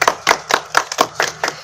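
Applause at a news broadcast segment, heard as a brief burst of about seven evenly spaced, crisp claps in steady rhythm, close and fairly loud with nothing else over them.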